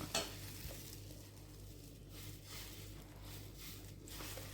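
Rice flour batter ladled onto a hot tawa sizzles with a steady, soft crackle that runs evenly throughout, with a brief clink near the start and no voices.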